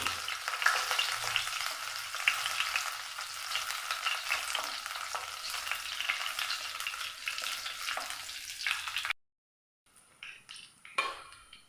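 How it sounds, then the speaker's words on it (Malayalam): Ginger and curry leaves fry in a hot pan with a dense, steady sizzle for several seconds, then the hiss stops abruptly, leaving a few faint clinks of a utensil. "നല്ല പോലെ ഒന്ന് മൂപ്പിച്ചെടുക്കാം"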